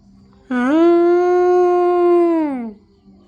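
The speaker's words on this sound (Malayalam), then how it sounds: "അവിടെ കൂടെ ഒരു പട്ടി അവിടെ കുരയ്ക്കണേ" A single long dog howl, close and loud, holding a steady pitch for about two seconds before trailing off, with no barking.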